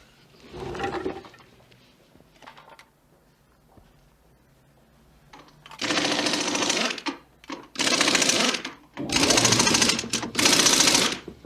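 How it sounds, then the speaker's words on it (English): A pneumatic air wrench demonstrated in a courtroom drama, firing in several loud rattling bursts of about one to two seconds each after quieter shuffling, close and harsh with no talk over it. "That is an air wrench"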